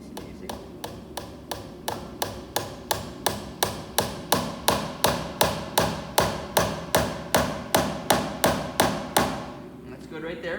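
A nail being hammered into a wooden shelf, about twenty-five sharp, evenly spaced strikes in a steady rhythm that grow slightly louder before stopping, close and clear with no talking.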